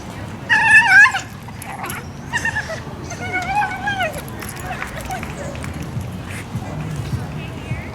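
A puppy with separation anxiety whimpers and yips during a recall training lesson, with a sharp high cluster of yelps near the start, then softer whines tapering off, mixed with background voices.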